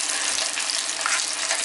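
A steady, close bubbling sizzle of blended tomato sauce simmering in a pan, continuous and even throughout.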